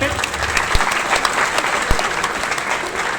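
A seminar audience at a business event breaks into sustained applause, dense and steady clapping from many hands, with voices mixed in.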